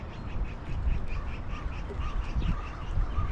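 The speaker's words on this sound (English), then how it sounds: "I don't know what that bird is, but certainly getting a move on." Bird calling outdoors beside steps, with the call repeating in a quick series of rasping notes that sound faint against steady wind and traffic rumble.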